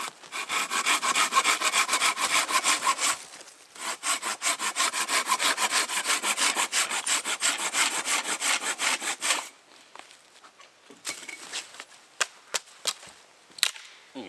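Silky pull saw cutting through dry wood outdoors at a campsite, a loud steady run of rapid rasping strokes that pauses briefly, then continues before giving way to scattered lighter scrapes and clicks at the end.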